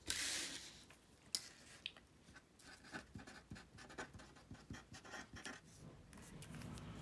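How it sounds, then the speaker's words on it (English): A pen writes in a Happy Planner, close and quiet, with short scratchy strokes and small taps in an uneven rhythm, plus a brief rustle at the start. "Now I'll just write a few things down."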